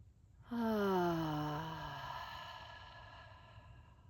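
Near and clear, a single long audible exhale follows a breath in through the nose, voiced at first and falling in pitch before trailing off into a breathy fade.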